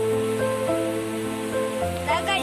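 Heavy rain in Kannur pours steadily and loudly as a continuous wash across the whole stretch, with a low tonal hum running underneath.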